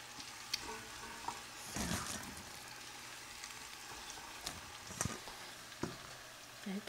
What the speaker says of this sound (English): basically you're just gonna kind of start sauteing the onions